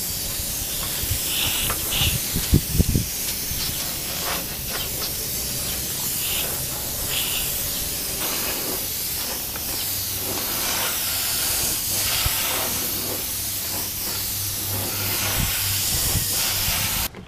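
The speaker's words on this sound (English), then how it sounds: "Now the airbrush will give us a lot less of a paint edge." Paint from an airbrush hisses onto a part of a Yamaha FZR motorcycle during restoration, a loud and steady spray that runs throughout with only small dips.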